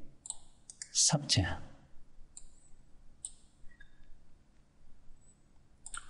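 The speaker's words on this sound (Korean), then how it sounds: "클릭. 라이트 클릭. 취소. 드래그. 라이트 클릭." Mouse clicks while operating Inventor 3D CAD modeling software, a few sharp taps scattered among close, quiet narration in Korean, with long pauses between the clicks.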